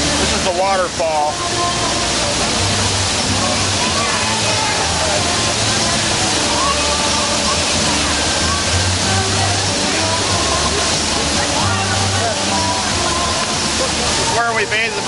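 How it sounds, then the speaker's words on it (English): A waterfall in downtown Seattle pours with a loud, steady rushing wash that fills the whole scene, with people talking over it in the open air. "This is the waterfall."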